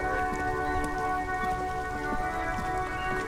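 Steady rain in a video game falls continuously, a dense hiss of drops with a faint low tonal hum beneath, even and unbroken throughout.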